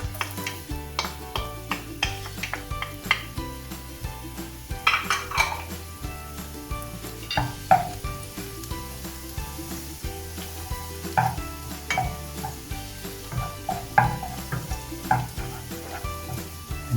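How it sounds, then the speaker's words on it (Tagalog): Garlic frying in oil in a saucepan, a continuous close sizzle with frequent clinks and scrapes of a utensil stirring against the pan. "painit lang tayo ng saucepan, lagay natin yung oil, and then yung ating garlic hanggang siya ay maging golden brown"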